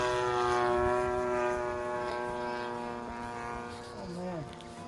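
A Seagull Models Vans RV-8 model airplane engine at full throttle, a loud, sustained propeller drone in the air whose pitch wavers and dips near the end, with talk audible over it.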